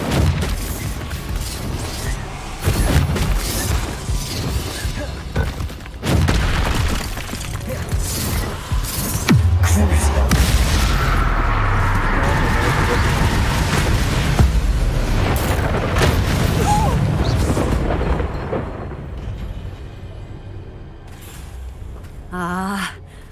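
Hogwarts Legacy battle with an Incendio fire spell: a roaring whoosh of flame and dull booms over several seconds, mixed with gasps and clashing effects, then fading out.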